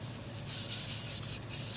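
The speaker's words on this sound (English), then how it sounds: "You get that little pad folded up, and I've got some synthetic steel wool." A synthetic steel wool pad rubbed over a freshly varnished wooden bedside table, giving close, soft, hissing scrubs in quick repeated back-and-forth strokes, with no one talking.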